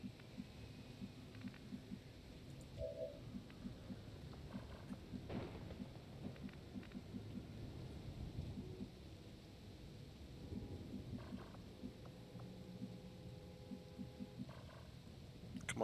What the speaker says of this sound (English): Oh, it's starting to rain here.